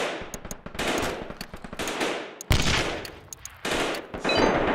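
Rapid submachine-gun fire in a first-person shooter game, loud close bursts of automatic shots separated by brief pauses, repeated several times.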